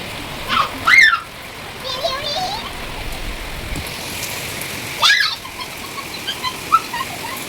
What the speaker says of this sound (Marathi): पाऊस येत आहे बघा.